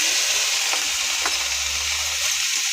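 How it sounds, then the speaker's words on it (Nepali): Chow mein with chilli and soy sauce stir-frying in a hot pan, a steady loud sizzle with a few soft scrapes of the stirring utensil, a low hum underneath and no talk. "यसलाई चाहिँ मजाले फ्राई गर्नुपर्ने हुन्छ।"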